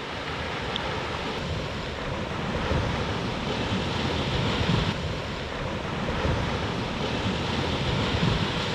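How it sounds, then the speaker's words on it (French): Ocean waves surging and breaking on a rocky point at dawn, a loud continuous roar of surf with wind buffeting the microphone, no voices. "Il y a des super vagues."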